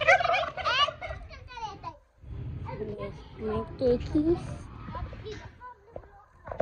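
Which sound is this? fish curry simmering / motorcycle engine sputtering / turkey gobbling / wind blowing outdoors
turkey gobbling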